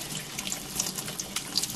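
Water runs steadily from a kitchen tap as chunks of freshly churned butter are rinsed, a close splashing stream with soft drips, and nobody talks.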